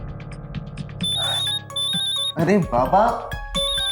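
A mobile phone ringtone chimes in repeated electronic tones at a domestic setting, sounding steadily under a woman's and a man's conversation before louder speech takes over.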